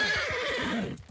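A horse in Mount and Blade Bannerlord neighs in one loud, close, shaky whinny that fills the moment and then breaks off abruptly.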